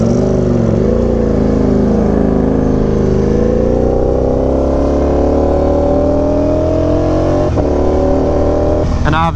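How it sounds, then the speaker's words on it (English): Ducati Panigale V4R with a dry clutch idling close by, its loud steady exhaust drone rising slowly in pitch, with a faint clutch rattle mixed beneath it and a brief blip near the end. "the exhaust is definitely louder than the clutch, but I do hear both, which is pretty nice."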